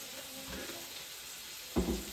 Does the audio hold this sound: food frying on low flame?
yes